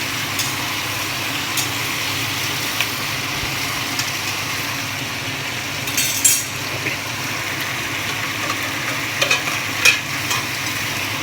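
Tomato pieces being stirred in a pan on the stove, a steady low sizzle with occasional scraping knocks of the spoon, close and continuous.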